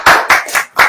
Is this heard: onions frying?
no